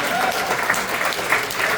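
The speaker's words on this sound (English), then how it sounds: "How about a nice round of applause for Athena?" Big band concert audience applauds in a dense, even burst of clapping, fairly close and steady for the whole short stretch.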